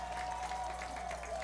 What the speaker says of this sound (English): And they're applauded by this San Marino crowd.